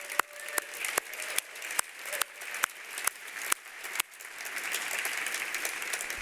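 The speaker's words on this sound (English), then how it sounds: "give another round of applause to the medical students, both who sang and the orchestra group that we had" Applause from an audience at a medical school dean's reunion soiree fills the room, honoring student singers and an orchestra group. Sharp regular claps punctuate steady clapping that swells toward the end.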